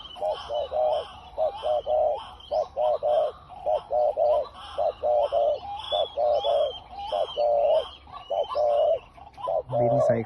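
Repeated rhythmic coos of a decoy dove in short bursts, close and clear, continuing steadily with brief pauses between phrases and faint chirps in the background.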